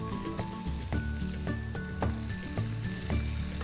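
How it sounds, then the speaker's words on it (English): Onions dropped into a pan of golden-browned garlic sizzle loudly and continuously, with brief crackling bursts and stirring knocks over a faint tonal background. "At this point, we're going to add the onions."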